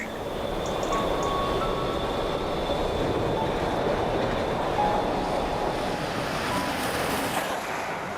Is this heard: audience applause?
no